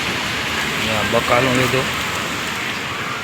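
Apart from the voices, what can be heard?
heavy rain in Nagpur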